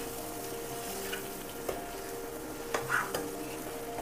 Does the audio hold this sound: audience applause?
no